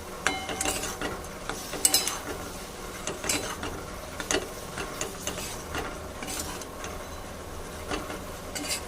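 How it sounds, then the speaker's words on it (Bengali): Kashmiri chilli and spices being stirred and fried in a pan for masala paneer, a soft steady sizzle broken by repeated light scrapes and taps of a spoon against the pan, moderately close. "মশলাগুলো কষিয়ে নেব"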